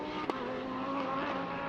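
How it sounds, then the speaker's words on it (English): Porsche 992 GT3 R race car passing on a circuit, its engine a steady loud drone throughout with a brief sharp click near the start. "Love the sound of that 992 GT3R."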